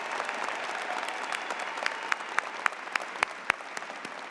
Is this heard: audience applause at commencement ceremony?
yes